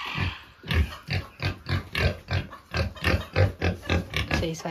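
Pigs grunt in a pigsty on a rural farm, a steady run of close, loud, rhythmic grunts and snorts coming about twice a second with no pause.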